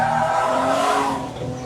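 A BMW E30 Hartge accelerates hard with a loud, continuous engine roar and what sounds like tire squeal, heard close and alone without any talk.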